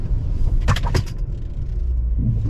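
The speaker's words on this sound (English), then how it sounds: "So here we go. Emergency brake." A 2023 Hyundai Santa Cruz SEL Premium with a 2.5-liter engine brakes hard from about 40 mph on a road. Loud, steady cabin rumble with a brief burst of tire and brake noise near the middle, heard close from inside.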